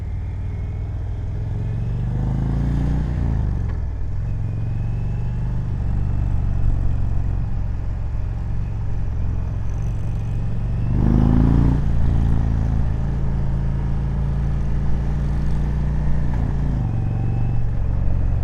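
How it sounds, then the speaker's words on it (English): A 2020 Indian Chieftain Darkhorse 116 Stage 2 motorcycle idling close by, its exhaust giving a deep, loud, continuous rumble that rises with two brief revs before settling back to idle. "I love that motor. That sound coming out of those exhausts."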